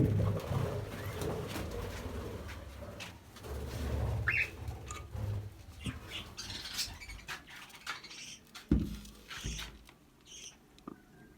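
Pigeons coo in low, soft bursts amid scratching, fluttering and shuffling noises near their nesting pots with chicks, fairly close by.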